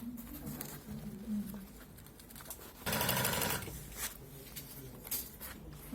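A sewing machine stitches fabric with a close, busy mechanical chatter that runs in short bursts and pauses, with one louder, denser stretch in the middle.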